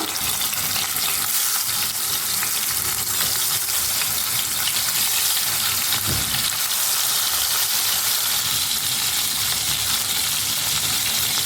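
Fish fries in hot mustard oil in a pan over a medium flame, giving a constant, dense sizzle that holds steady throughout with no talking.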